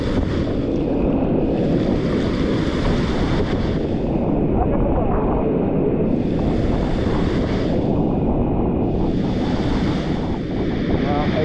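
Rough sea and strong wind during a storm at Bucana roar continuously, heavy wind buffeting the microphone over crashing surf, swelling in loud waves every few seconds.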